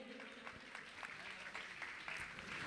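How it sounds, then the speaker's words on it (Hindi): An audience claps at a religious felicitation ceremony during a festival, steady continuous applause filling the hall at moderate level with no voices rising above it. "ताली बजा के आप इनका सम्मान करें।"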